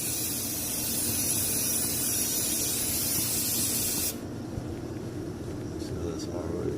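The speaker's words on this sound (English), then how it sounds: "Sprayed a little cleaner on it." A spray can of cleaner hisses loudly and steadily onto oily timing chain components of a Chevrolet 3.6 VVT engine for about four seconds, then stops, leaving quiet shop ambience.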